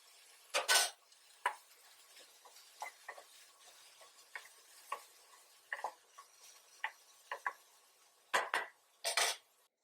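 Carrots sautéed with vegetable masala and garam masala in a pan, heard as a faint background sizzle under sharp, irregular clinks and scrapes of a metal spoon against the pan, some of them loud and close.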